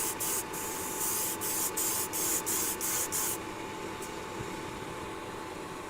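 An airbrush sprays a heavy coat of caliper paint, a steady broadband hiss punctuated by short bursts in the first half, then a continuous softer spray with an occasional pulse; a couple of spoken words slip in at the start.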